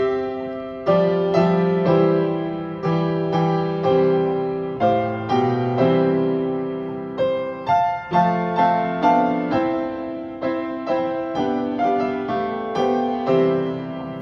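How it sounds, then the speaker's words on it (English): Three trumpets play a traditional German student song, "Wir hatten gebaut ein stattliches Haus", in bright brassy harmony with clearly tongued notes in a steady march-like rhythm, loud and with no talking. "Here's what it sounds like with the 3 trumpets playing it."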